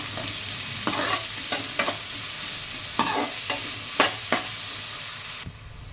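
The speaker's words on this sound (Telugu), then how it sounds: "కట్ చేసుకున్న ఆనియన్స్ కట్ చేసుకున్న పచ్చిమిర్చి వేసి బాగా వేగనివ్వాలి" Chopped onions and green chillies fry in oil in a pan for ponganalu, a steady sizzle broken by several sharp scraping stirs of a spoon, close and alone, then cutting off abruptly near the end.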